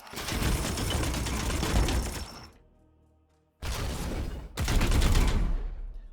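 Heavy support-fire gunfire from the Warhammer 40K game Chaos Gate Daemonhunters: a dense, loud barrage of shots and crashing impacts. It breaks off into near silence, then resumes in two further intense bursts.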